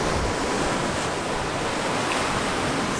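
Ocean surf breaking against a rocky beach at Tulum, Mexico: a steady, loud wash of churning water with wind noise mixed in, constant with no talking.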